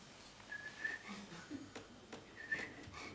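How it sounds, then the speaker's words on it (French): Soft, breathy whistling from a single person, heard as a few brief, faint tonal phrases with quiet pauses between them, alone and without talk. "Pour mon ultime sifflotement."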